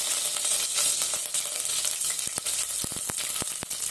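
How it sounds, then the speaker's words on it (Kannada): Crushed garlic and curry leaves sizzle steadily in hot oil for a radish dal sambar, with a few sharp clinks of a utensil stirring near the end, close and without talk. "ಜಜ್ಜಿರೋ ಅಂತ ಬೆಳ್ಳುಳ್ಳಿ ಇದ್ದೀನಿ ಮತ್ತೆ ಕರ್ಬೇವಿನ ಸೊಪ್ಪು"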